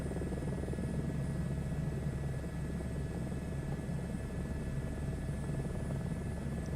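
Steady helicopter rotor thump and engine whine in Microsoft Flight Simulator 2024, constant and moderately loud with no change in distance, running without pause.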